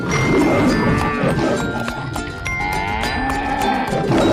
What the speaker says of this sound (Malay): Keluarlah sapi.